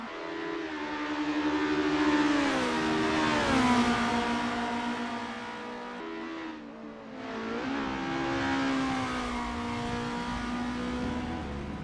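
A formula race car in Assetto Corsa screams through the gears, its engine note climbing and dropping with upshifts and a lift around the middle, continuous and close.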